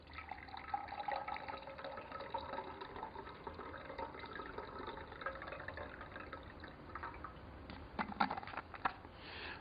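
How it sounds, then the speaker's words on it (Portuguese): Cold water is poured from a thermos into a cup during a chemistry class demonstration, a steady liquid trickle and splash running continuously at close range, with a few brief clinks near the end. "E pegamos a água gelada e colocamos no outro copo."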